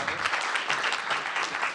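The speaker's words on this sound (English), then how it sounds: "big applause for Raymond" Brief burst of audience applause during a Stanford seminar on augmented reality, dense close clapping filling the room for under two seconds.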